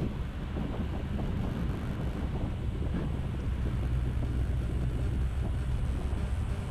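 Steady low engine drone and road rumble heard from inside a car climbing a mountain road toward Papandayan, continuous and fairly loud with wind-like hiss, no talking.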